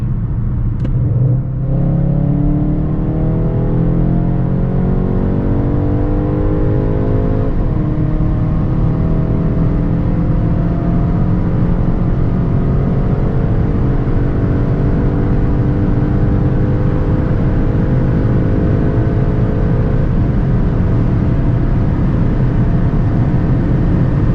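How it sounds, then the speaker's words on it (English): Skoda Octavia RS with 245 hp accelerating hard from 100 to 200 km/h, heard from inside as a loud, sustained engine roar climbing steadily in pitch through the gears under heavy road and wind rumble. "let's now see how fast the car goes from 100 to 200"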